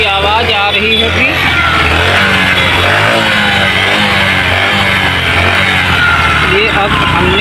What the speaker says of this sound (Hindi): चाबी ऑन करके तुमको किक लगा के भी दिखा।